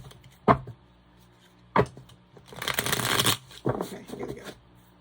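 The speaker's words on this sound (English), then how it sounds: "These cards do not want to shuffle" Tarot cards being shuffled by hand, a few short crisp riffles and a longer dense flutter of cards close up, separated by quiet pauses.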